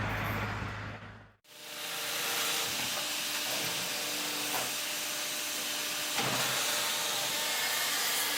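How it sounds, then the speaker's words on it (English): A Class 15F steam locomotive takes on coal at a depot coaling stage, heard as loud, steady hissing and rushing noise after an abrupt cut, with occasional clanks. "A Class 15F locomotive takes a full load of fuel at the coaling stage."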